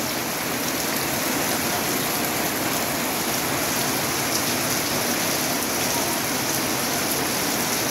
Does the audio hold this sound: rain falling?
yes